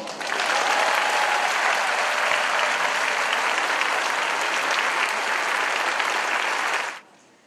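A large assembly at a Mission Ouvrière gathering in Lourdes breaks into one long round of thanks: thick, sustained clapping from many hands, even and loud throughout, then stopping abruptly near the end.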